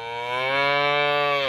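A Swedish-breed dairy cow lets out one long, loud, steady moo at close range, held for over a second before cutting off abruptly, with no talking around it.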